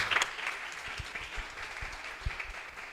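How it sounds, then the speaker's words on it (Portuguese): A church congregation applauds, the clapping soft and somewhat distant, a steady patter of many hands over three seconds with a few louder individual claps standing out. "Vamos aplaudir a palavra da salvação."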